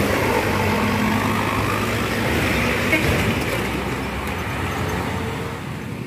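A Permata Bunda Transport bus passes on a road in West Sumatra, its engine and tyre roar forming a loud, steady broadband rush that swells slightly mid-way and then eases off.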